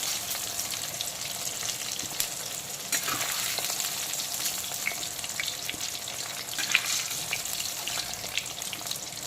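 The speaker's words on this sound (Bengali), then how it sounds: "গাটি কচুগুলো কিন্তু এখন খুব ভালো করে আমি লাল লাল করে ডিপ ফ্রাই করে নিয়েছি" Deep-fried taro sits in hot oil while pieces are lifted out, filling the scene with a continuous dense crackling sizzle, close and fairly even, with small spikes from the stirring.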